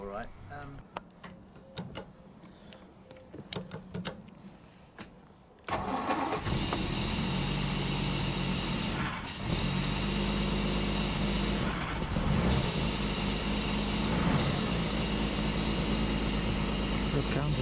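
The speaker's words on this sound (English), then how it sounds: "No windscreen at the moment, so the soundtrack is mostly wind noise" An AC 2 Litre car without a windscreen is driven along. A quieter stretch with speech gives way to a loud, constant broadband rush of wind and road roar that persists with small dips.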